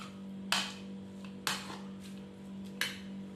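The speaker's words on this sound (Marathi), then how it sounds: "एक साईडला शेंगदाणे भाजून घेते" Peanuts being dry-roasted in a pan at home for a Marathi-style radish salad, heard as three sharp, spaced metallic clinks of a utensil stirring against the pan over a steady low hum.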